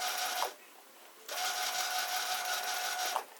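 A Brother CE8080PRW computerized sewing machine winds its bobbin with a fast whirring buzz that cuts out briefly, then resumes and runs about two seconds before stopping again, the stuttering of a full bobbin; quiet and close, with no talking.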